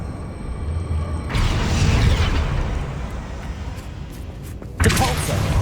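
A spell cast in the Hogwarts Legacy video game: a deep whooshing surge of magical energy swells after a second and rumbles steadily, then a second brighter burst flares near the end.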